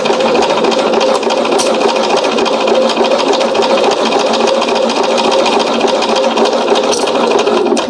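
A sewing machine stitching a zipper with a holding seam, a steady fast mechanical whir with light rattle, close and continuous with no voices.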